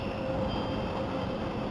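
A Melbourne suburban train runs between Blackburn and Surrey Hills stations, heard from inside the carriage as a steady, fairly quiet rumble and hiss with no talk.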